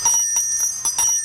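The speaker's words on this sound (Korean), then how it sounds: "구세군 자선냄비의 종소리가 훈훈함을 더하는 연말입니다" A Salvation Army charity kettle handbell rings in quick repeated shakes, bright and close, at a year-end street fundraiser.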